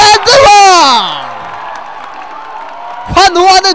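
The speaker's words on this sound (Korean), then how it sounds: "환호하는 조선대학교" Chosun University fans at a college basketball game against Kyung Hee University, a loud burst of whooping and shrieking cheers that fades into crowd murmur before another short surge of voices.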